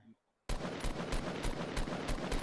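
Rapid bursts of gunfire in Fortnite, loud and close, starting after a brief quiet moment and continuing as a steady, evenly spaced string of shots aimed at a ramp.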